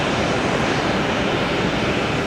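A Boeing 737 jet lands at night at Tampa International, giving a loud, steady broadband engine roar that stays constant for the whole stretch, with no talking.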